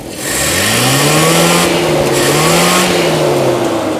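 A Toyota Kijang engine is revved up and held at high speed. The loud, close mechanical drone rises quickly, holds with slight wavering in pitch, and then eases back a little, with no voices over it.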